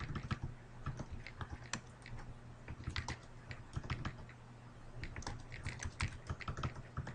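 Rapid, uneven keystrokes on a computer keyboard clatter steadily and close up for several seconds, with a low steady hum underneath and no talking.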